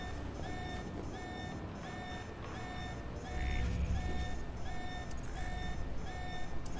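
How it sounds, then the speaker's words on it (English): Repeating electronic alarm tone from the Alpha Protocol video game, short evenly spaced beeps in a steady rhythm over a low rumbling game background, holding moderately loud throughout. "let's turn the alarm off."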